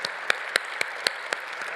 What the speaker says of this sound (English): let's give another round of applause to our accomplished honorees, Muriel, Whitney, Tim, Pilar, and Jolen.